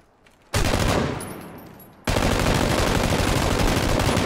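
Long bursts of M249 machine gun fire in PUBG, loud and close: a short burst that rings and fades, a brief pause, then a sustained rapid stream of shots to the end.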